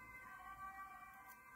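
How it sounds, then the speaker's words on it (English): A distant ambulance siren wailing with steady tonal pitches, faint and continuous. "I think I hear the sound of an ambulance."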